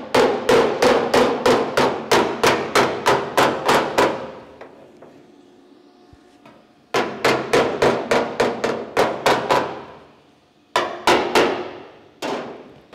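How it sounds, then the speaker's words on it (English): Car body metal on a 1970 Holden HG ute is hammered during roof rust repair. Several runs of rapid, evenly spaced sharp blows ring out close and loud, broken by short pauses. "so I can hammer that up."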